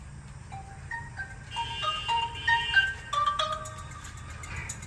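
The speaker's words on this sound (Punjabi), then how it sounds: "ਇਹ ਤੇ ਬਰਾਬਰ ਦਾ ਫੋਨ ਆ ਗਿਆ" A melodic electronic phone ringtone plays a repeating sequence of bright tones, fairly close and clear, with no talking over it.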